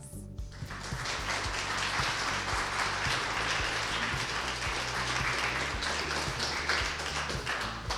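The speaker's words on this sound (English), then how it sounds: "Let's give a round of applause to the beautiful brides." Wedding guests at Flying V Ranch applaud the brides, a dense, steady round of clapping that fills the whole stretch evenly at close range over a faint low hum.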